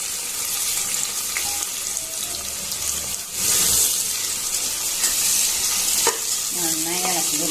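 Sliced large onions and green chillies sizzle in a hot pan for egg biryani, a steady bright hiss close up with stirring scrapes, swelling briefly midway.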